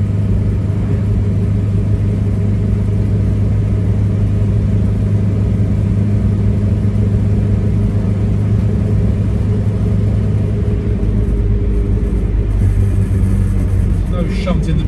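A 1956 Morris Minor split-screen two-door on the move gives a steady, loud low engine rumble and road noise throughout, with someone talking over it.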